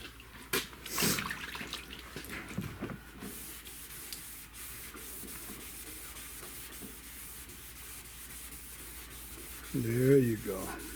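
Wet sanding on a surface being prepped before buffing, a continuous rough scrubbing rasp with watery swishes and a few louder strokes early on, close and steady throughout.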